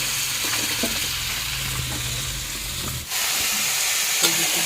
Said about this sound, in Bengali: এখন দিয়ে দিই সবজি